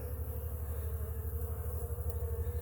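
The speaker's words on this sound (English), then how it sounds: "the bees aren't going in and out the top, they're coming in under the sides here" Honeybees buzz around a hive set on a stand where the boxes fit together badly, a steady low hum that stays continuous and fairly faint throughout, with no voices.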